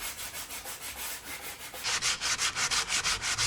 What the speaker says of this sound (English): All right, back to sanding.